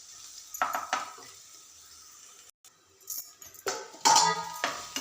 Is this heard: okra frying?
yes